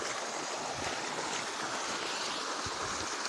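Water gushes steadily out of a motor pump outdoors, a continuous broadband rushing with no pauses and no voices.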